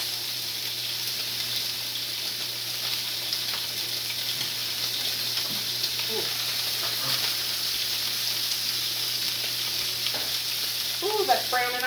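Food frying and browning in a pan on a home stove, a steady continuous sizzle throughout with occasional faint clinks, loud and close.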